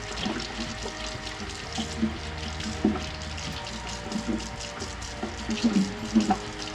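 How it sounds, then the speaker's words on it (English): Two medium carrots are scrubbed under a running kitchen tap, with a continuous splashing water stream and irregular louder rubbing and splatter bursts as the carrots are worked by hand. "First, I gave the carrots a good scrub."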